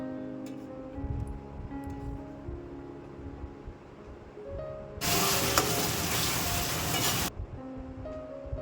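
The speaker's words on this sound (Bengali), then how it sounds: "ঢেলে দিয়ে এবার ভালো করে নাড়িয়ে চাড়িয়ে একটু কষিয়ে নেব।" A bhetki chilli fish spice mixture is stirred and sautéed in a pan: soft scraping and a low hum build into a loud, dense sizzle that lasts about two seconds, then fades back to quieter stirring.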